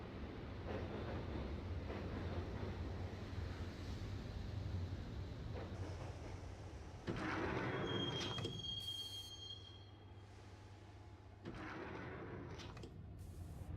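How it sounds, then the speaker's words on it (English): A subway train in the video game Max Payne rolls along the tracks with a loud, steady rumble and clatter, joined by screeching wheel squeals and metallic bursts partway through, with no speech. "the train doors had already shut behind me, and I was in for the ride"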